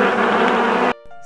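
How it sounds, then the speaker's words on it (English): A housefly buzzes loudly and steadily at close range for about a second, then cuts off abruptly, leaving a quiet musical tone behind. "Insects, fly."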